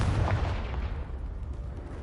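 A Confringo spell blast in the Hogwarts Legacy video game: one deep booming burst at the start that rumbles and fades over about two seconds, alone and fairly loud.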